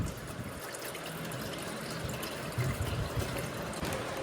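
Hot water poured from a kettle into instant noodles in a hostel room, a steady soft trickle and splash running continuously at low level with no voices.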